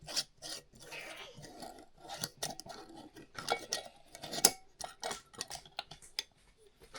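Metal bands being screwed onto glass canning jars while preserving a berry harvest: scraping, rasping twists and small clinks in uneven bursts, close and fairly quiet, with no talking.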